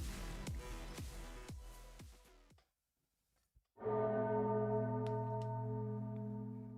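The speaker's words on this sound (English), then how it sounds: "Undyne hears a bell, clear as day." Resonant bell in an Arknights story scene rings out alone with a long sustained hum after a short silence, preceded by a series of sharp struck tones that decay one after another.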